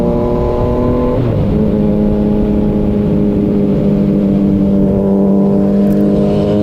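Yamaha MT-09 motorcycle accelerating hard through the gears on a ride home, a loud, close engine note that rises and climbs steadily with a brief shift dip early on.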